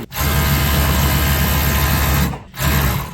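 A Juki MO-6816S interlock sewing machine runs loud and steady at a fast continuous whir, stopping briefly near the end before starting up again.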